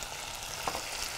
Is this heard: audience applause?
no